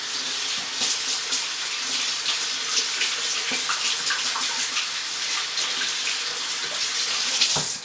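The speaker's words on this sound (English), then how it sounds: "So let me rinse off real quick." Tap water runs steadily while handmade soap is rinsed, a constant close splashing hiss with small irregular splatters and no voices.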